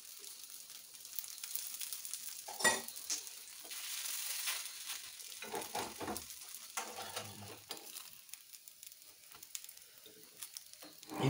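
Kaltappa, a rice batter cake, fries in oil with a quiet, continuous sizzle and crackle, broken by occasional stirring or scraping sounds and soft pops, close by and fairly faint.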